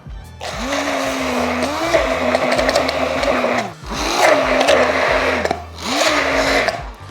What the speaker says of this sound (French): Je vais tout simplement la mettre dans ma mayo et je vais la mixer.